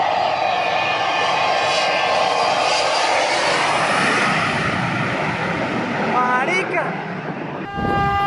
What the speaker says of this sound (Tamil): ஃபிளைட் டேக் ஆஃப் ஆகும்போது தரையோட தரையா டேக் ஆஃப் ஆனா எப்படி இருக்கும்?